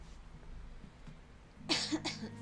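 A person coughs twice in quick succession, close and abrupt, after a stretch of quiet room noise during a Fallout 4 PC livestream.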